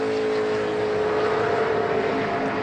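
A NASCAR stock car on a qualifying lap at Dover in 2016 gives a steady, loud, high-pitched engine drone that holds constant throughout with no pauses.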